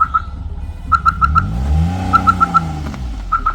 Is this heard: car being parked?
yes